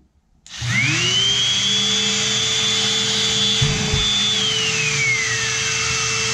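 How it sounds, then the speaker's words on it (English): A portable HEPA dust-collection vacuum motor in a small shop spins up with a rising whine, then runs steadily and loudly with a high tone that drops away near the end. "this HEPA vacuum cleaner is controlled by this switch"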